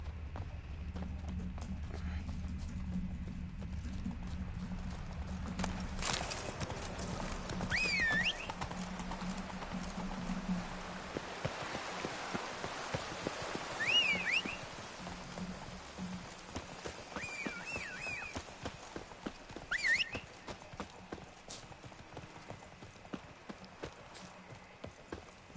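Roach the horse trots through The Witcher 3 world with scattered hoof clops under a quiet ambient bed, while a voice talks now and then over the footfalls.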